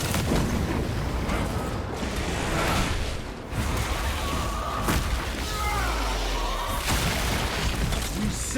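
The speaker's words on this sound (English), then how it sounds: "Deploying crack grenade." A crack grenade detonating in the Space Marine video game, a deep booming blast amid a dense, loud wash of combat noise, rumble and scattered impacts throughout.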